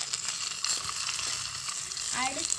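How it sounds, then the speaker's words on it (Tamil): Onions frying in hot oil with curry leaves, a steady close sizzle with a few light stirring scrapes throughout. "இப்போ வந்து கருவேப்பிலை போட்டோம். அடுத்து வந்து வெங்காயம்"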